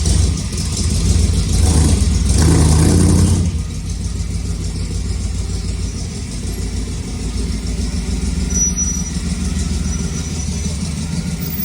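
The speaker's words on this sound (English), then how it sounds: "That fuel injection has to learn the motor. That's why it's kind of loping around there." A fuel-injected 1962 Ford F100 unibody pickup engine runs with an uneven, loping idle, louder for the first few seconds and then settling into a steady, close rumble with no talk over it.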